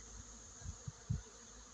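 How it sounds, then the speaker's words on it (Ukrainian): Faint honeybee buzzing over an apiary hums steadily in the background, with a few soft low thumps; quiet and distant. "годину тому пасіка загуділа"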